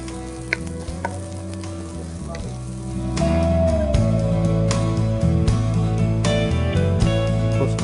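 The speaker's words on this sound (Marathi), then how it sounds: "कांदा लालसर होईपर्यंत आपल्याला रोस्ट करायचा आहे तो." Onion with garam masala frying in a pan for a Goan-style cowpea usal, a steady dense sizzle with occasional stirring scrapes and clinks, growing louder and fuller partway through.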